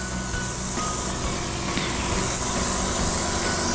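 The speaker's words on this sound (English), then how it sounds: "I'm just going to spray over your chest, coming all the way down to your bikini line" An airbrush sprays spray tan across a client's skin, a continuous close hiss of steady loudness with light rubbing texture, no talking.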